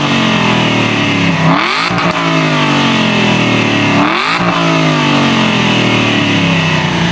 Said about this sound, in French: on y retrouve surtout 2 grosses sorties d'échappement qu'on peut voir juste ici. Et honnêtement, au niveau du son, c'est juste magique.